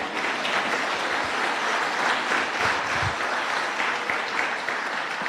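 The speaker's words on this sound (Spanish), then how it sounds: "Dios merece un aplauso, amén." A church congregation breaks into steady applause during a sermon, a full, even patter of many hands clapping together with no talk over it.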